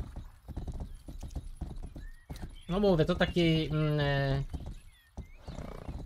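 Horse whinny with a rising-falling harmonic call from the medieval game Rustler, over steady clip-clop hooves, loud and close in the middle, with someone talking before and after.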